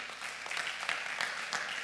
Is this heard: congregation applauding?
yes